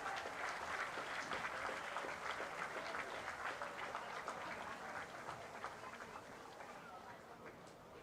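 Crowd applause rolls through the stands at a high school football game between Phoebus Phantoms and Kecoughtan Warriors, a dense steady patter of many hands that gradually eases in the last seconds.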